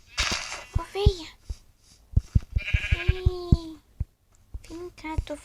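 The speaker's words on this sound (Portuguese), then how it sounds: "Ovelha." Sheep bleating loudly and close by in several wavering calls, interleaved with sharp knocks and handling noises, with no speech.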